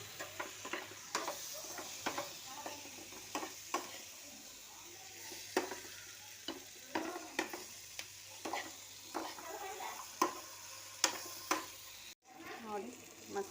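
Drumsticks with soaked soya and garlic frying in a pan, with a quiet sizzle under repeated sharp scrapes and taps of a spoon stirring against the metal, irregular and fairly close.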